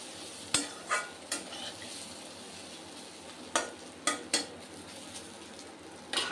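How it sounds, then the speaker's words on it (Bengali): Chicken frying in a pan, with a soft continuous sizzle broken by several sharp metallic clanks of a utensil against the pan, close by and with no talking. "চিকেনটা ভেজে নিচ্ছি"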